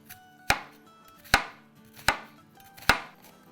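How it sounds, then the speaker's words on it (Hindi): A knife chops through a large onion on a cutting board for pav bhaji, four sharp, evenly spaced strikes sounding close and crisp, with no voices. "एक बड़ी सी प्याज और एक बेल पेपर काट लेते हैं, चॉप करेंगे"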